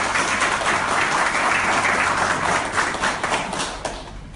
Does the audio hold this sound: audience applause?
yes